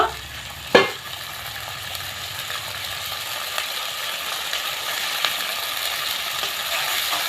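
Cashew paste mixture is stirred in a cooking pan, with a sharp knock near the start followed by a soft steady sizzle and faint scraping, close and moderately quiet, with no voices.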